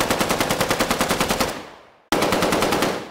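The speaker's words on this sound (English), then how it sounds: "The noise layer is what makes the gun sound aggressive and loud" Fully automatic gunfire noise layer for game sound design: a loud, rapid burst of evenly spaced shots that decays away, then a second dense burst starts after a brief silence.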